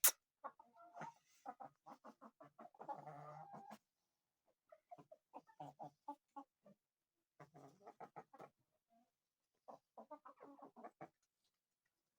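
A 4-kilo Brahma rooster clucks in a farmyard, giving repeated short bursts of close, clear clucks separated by brief silences.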